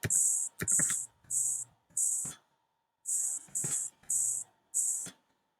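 Patatap keyboard sounds tapped as a beat spelling "dad": eight short, bright electronic hits with brief low thumps, in an even rhythm with a pause midway. Each hit is loud, close and alone.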